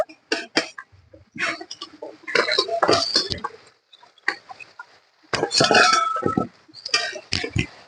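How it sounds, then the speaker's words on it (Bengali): A lid is lifted off a pot of eggplant and small mourala fish chorchori, giving a series of close metallic clinks, scrapes and clatters in short bursts separated by quiet gaps. "এবার একবার ঢাকা তুলে দেখে নেব"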